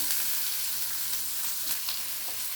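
Chopped onion and slit green chilies frying in oil in a pan, a dense, loud, steady hiss with faint stirring scrapes, close up, nobody speaking.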